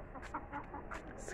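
Chickens clucking in short, scattered bursts against a steady low background rumble, fairly close and moderately loud.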